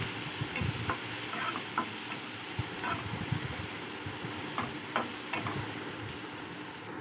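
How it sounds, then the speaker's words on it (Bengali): Ground spices, including coriander powder and salt, stirred in a pan for a pea ghugni, with soft repeated scraping ticks over a low, steady sizzle heard close up. "মশলাগুলো ভালোভাবে নেড়ে নিব"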